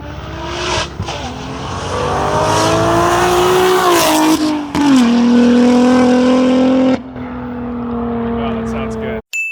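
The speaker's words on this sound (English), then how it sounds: "The idle sounds really good. I like the sound of the idle." BMW G80 M3 with an HFD Valvetronic midpipe exhaust, running close by with a loud, deep engine drone that rises and dips in pitch before settling into a steadier rumble.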